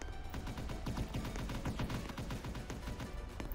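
Rapid bursts of gunfire from a Roblox Salvage shooter game, a dense run of close, sharp repeated shots with no talk.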